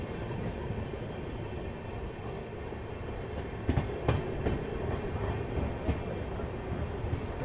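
Sabarmati Express, an Ahmedabad–Darbhanga train, rolling steadily on the rails with a continuous rumble and a few sharper clacks of the wheels over rail joints, heard up close with no talk.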